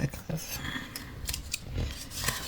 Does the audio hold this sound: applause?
no